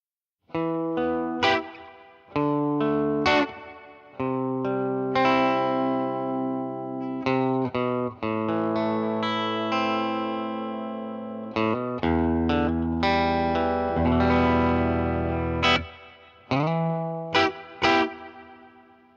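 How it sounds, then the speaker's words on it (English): Electric guitar played through a Purdy Tube Amps reverb pedal into a tweed amp, a steady run of chords and single notes with a lingering, washy tail, loud and continuous. "And now with the reverb pedal engaged."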